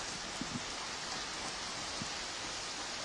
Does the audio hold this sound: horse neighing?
no